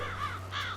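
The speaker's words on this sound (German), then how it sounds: "Vogel!" Crow cawing in Farming Simulator 22: two harsh, close caws in quick succession over a low steady hum.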